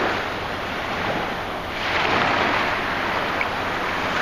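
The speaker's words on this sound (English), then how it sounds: "Really breezing up now." Wind gusts and rolling surf at a breezy beach blend into a broad, steady roar, with the wind buffeting the microphone and the waves swelling slightly partway through.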